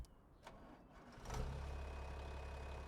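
Fertilizer tractor in Farming Simulator 25 rumbles faintly after a couple of soft clunks, its engine settling into a low steady drone at a distance.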